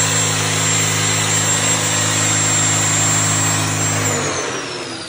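A tractor engine runs steadily and loudly nearby, a constant droning hum that dips in pitch near the end as it slows.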